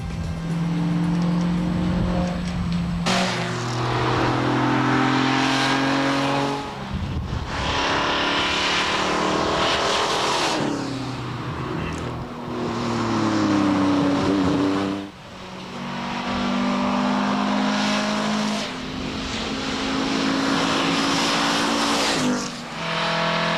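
Rally cars race along a tarmac stage of the 1999 Targa event, engines roaring loud and close with repeated gear changes, revving bursts and passes over about twenty seconds.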